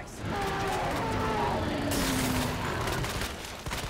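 Sustained gunfire rattles through a Resident Evil 2 Remake boss fight, a dense steady stream of shots with a tonal ringing layer under it, loud and continuous for several seconds.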